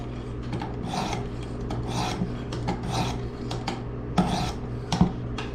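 Knife blade drawn across a Work Sharp precision sharpener, a series of short raspy grinding strokes in an uneven rhythm, close and fairly loud with no talking.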